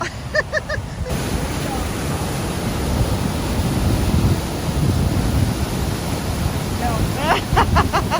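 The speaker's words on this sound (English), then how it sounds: "this would be our waterfall" Small waterfall in a farm irrigation ditch in Colorado ranch country, a steady broadband rush of falling water filling the whole clip, fairly close and loud, with brief bird chirps at the start and end.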